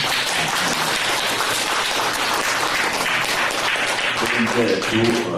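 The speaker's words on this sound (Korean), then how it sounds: "우리 김미순 여사님 우리 박수를 한번" Audience applause fills the room at a Korean Christian writers' association monthly meeting and worship gathering, a steady, dense clapping that holds loud and even throughout, with a voice speaking faintly beneath it near the end.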